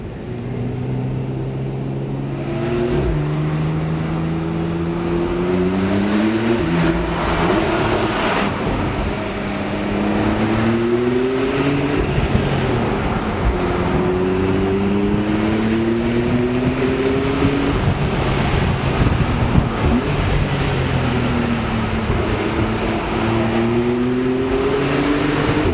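A 420 hp Porsche 991.2 Carrera S accelerates along a winding road, its engine note climbing repeatedly through the gears with rising pitch sweeps over constant road and wind roar, heard from inside the car.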